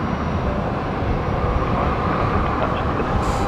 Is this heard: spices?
no